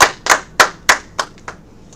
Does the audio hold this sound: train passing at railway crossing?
no